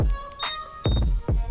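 A motorcycle smart key gives short electronic beeps in a quick cluster, sharp and close, with a few brief tones separated by short pauses.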